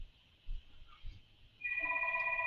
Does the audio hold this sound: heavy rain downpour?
no